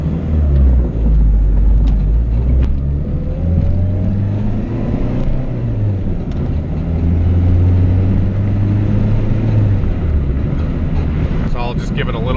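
A turbocharged Honda GSR engine in an EG chassis is given throttle in several rising and falling revs, heard as a loud, close rumble with a droning exhaust note.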